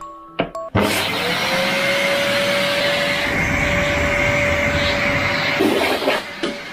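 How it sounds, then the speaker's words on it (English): A household hoover switches on with a clunk, spins up and runs with a loud steady whine and roar near a sleeping dog, then cuts off with a bump near the end. "I love waking her up with the hoover."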